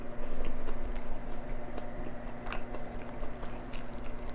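Close crunching bites and steady chewing of a large crispy fried chicken sandwich stacked with cheddar cheese on a toasted bun, loud and continuous with small crackles and no talk.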